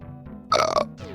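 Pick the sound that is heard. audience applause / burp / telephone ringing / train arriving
burp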